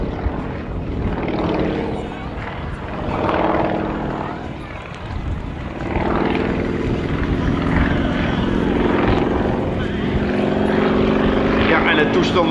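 A Sukhoi Su-26MX aerobatic plane with its 400 hp M14PF radial engine performs at an air show, its droning propeller roar rising and falling in pitch as it maneuvers, while a commentator speaks over it throughout.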